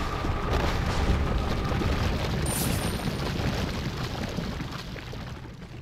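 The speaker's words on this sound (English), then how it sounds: "In here, I throw my flame grenade" Flame grenade going off in the video game Resident Evil 4, heard as a sustained, loud roaring blaze of dense rumbling noise that fades slightly toward the end, without talking.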